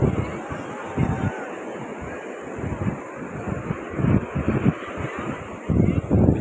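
Sea breeze gusting at Arambol beach in Goa, low wind buffets thumping the microphone in repeated bursts over a steady wash of surf.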